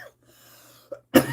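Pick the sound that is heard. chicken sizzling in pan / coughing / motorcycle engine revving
coughing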